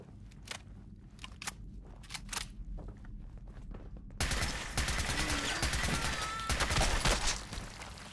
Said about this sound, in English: That was some amazing shooting on my part